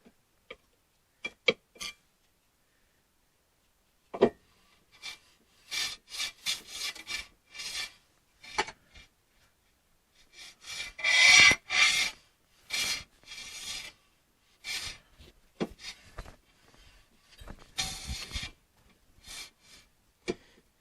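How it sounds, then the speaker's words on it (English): Brake hardware on a Chevy Monte Carlo SS rubs and rasps against the rotor in irregular scraping bursts and clicks, close and moderately loud, with quiet gaps between them. "the hardware it sits on is rubbing against the rotor"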